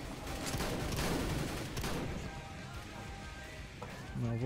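Rapid bursts of gunfire in Counter-Strike: Global Offensive, loud and dense for the first two seconds, then thinning out over a game background, with a brief sharp burst near the end.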